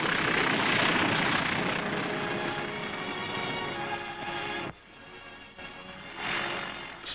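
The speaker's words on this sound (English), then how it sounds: "The second one lands 1 minute later." A propeller plane lands on an island airstrip at Tarawa in 1944. The engine drones loudly and rough, then drops off sharply before a brief swell returns, heard on an old recording with no talk.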